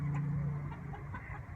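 Chickens cluck softly and close by in a short run of low, murmuring calls.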